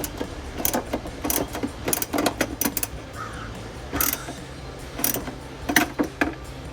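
A socket wrench with an 8mm socket on a 6-inch extension ratchets a nut on a 2022-2024 Toyota Tundra's K&N cold air intake, giving quiet, irregular clicking bursts against a faint background hum.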